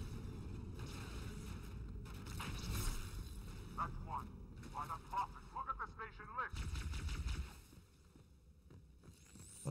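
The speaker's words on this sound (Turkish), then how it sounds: "Ya ateş ediyorum normal silahla." Weapons fire in bursts and booms during a co-op session of Halo 2 Anniversary. The shots sit under game sound effects, and players talk over the gunfire.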